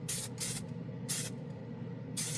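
Glidden Max-Flex spray paint hisses onto a plastic model in four short, close bursts separated by brief pauses, with no talking.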